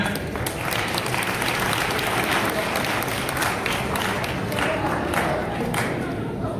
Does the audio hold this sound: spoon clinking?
no